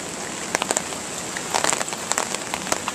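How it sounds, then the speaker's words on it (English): Rain from Hurricane Sandy patters and splatters steadily on a surface nearby, with scattered louder drops and crackling taps over a constant hiss. "There's just so much rain and wind coming down all at once."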